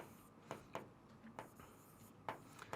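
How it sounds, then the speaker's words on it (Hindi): Pen strokes scratch across paper during a Class 10 maths lesson, several short separate scrapes spaced irregularly, quiet and close, with no talking. "अब यहां पर इसको मैं लिखता हूं ई के"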